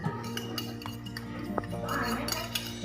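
Pandan cake batter being stirred with melted butter in a bowl, a steady run of light utensil clinks and scrapes with a humming background and some faint voice.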